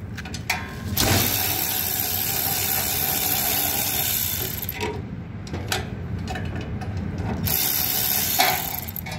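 A 3/8 ratchet driving 1/4 self-tapping screws, rapid close clicking and whirring in bursts with brief pauses, no talk.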